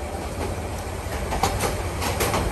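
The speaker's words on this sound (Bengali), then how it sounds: "আমাদের ট্রেন এই মুহূর্তে তেজগাঁও স্টেশন পার হচ্ছে।" A train rolls through Tejgaon station in Dhaka, a broad-gauge train standing alongside, giving a steady rumble with rhythmic wheel clacks at moderate level and no talking.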